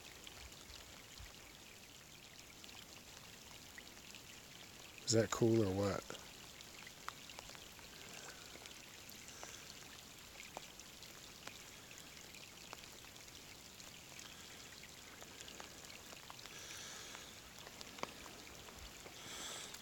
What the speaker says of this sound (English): it started raining. Listen to this.